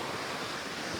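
Fast-flowing river water rushing beneath a rickety bridge in Takhar, Afghanistan, a steady loud roar of water and wind with no break.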